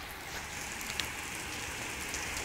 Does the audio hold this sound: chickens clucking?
no